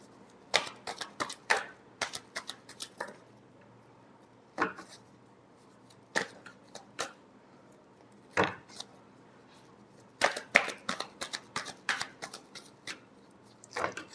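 Tarot cards being shuffled produce bursts of quick, crisp flicking clicks in irregular clusters, close but fairly quiet against a hushed background, with no talking.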